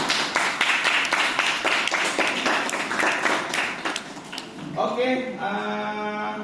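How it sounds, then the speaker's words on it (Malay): Classroom of students clapping for classmates after their presentations on belief in the Hereafter, rapid close claps for about four seconds before a voice begins speaking. "Berikan tepukan."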